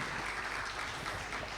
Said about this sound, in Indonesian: Tepuk tangan dong HIPI.